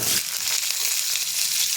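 Sliced onion sizzling in hot oil in a kadhai, a loud, continuous hiss close up with faint stirring underneath and no talk.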